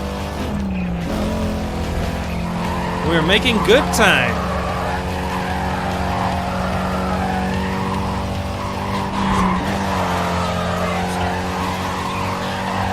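A race car in Need for Speed Carbon drones with a steady engine hum while tires squeal in a brief wavering burst midway, and a voice speaks over the engine.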